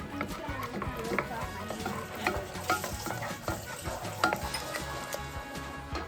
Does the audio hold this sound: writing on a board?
no